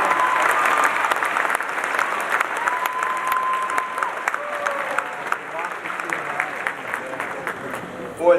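A lively crowd in a packed building applauds and cheers continuously, dense clapping with shouts and whistles rising throughout at a steady loud level.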